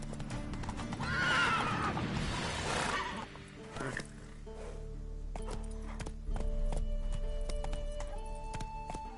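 Roach, the horse in The Witcher 3, clip-clops along in steady hoof beats with a whinny early on, while game music and a voice urging the horse on play over the top.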